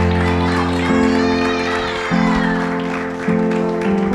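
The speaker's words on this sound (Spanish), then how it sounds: "Fuerte el aplauso si es para Cristo" A church congregation claps for Christ during a Spanish-language sermon, fairly loud group applause mixed with shouts and a sustained musical keyboard chord underneath.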